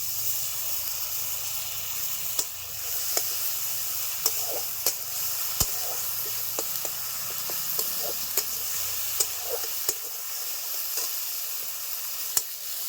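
Ginger garlic paste frying in a pan, a continuous low sizzle and hiss close by, punctuated by sharp clicks and taps of a utensil stirring against the pan every second or so.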